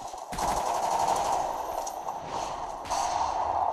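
Rapid, steady machine-gun fire from a video game shooter on a firing range map, loud and continuous across the clip with a brief gap near the start and no talk over it.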